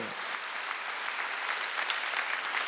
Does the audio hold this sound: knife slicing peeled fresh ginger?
no